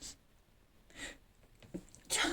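A person sneezes indoors, close and loud, in one sharp burst near the end, preceded by a few softer breathy sounds.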